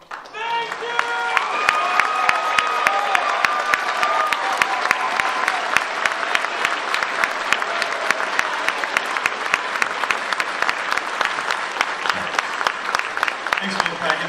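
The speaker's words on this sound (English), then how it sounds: "Everybody, again, big round of applause." Sustained audience applause at the Megaplex 2015 closing ceremony, a dense, even round of clapping from a large crowd that holds steady before fading near the end, with some talk faintly beneath.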